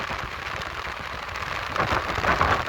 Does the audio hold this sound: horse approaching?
no